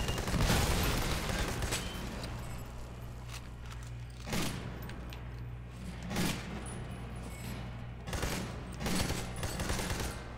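Gunfire crackles in the video game Army of Two: The Devil's Cartel, several loud bursts spaced a couple of seconds apart over a steady low background hum, with no voices.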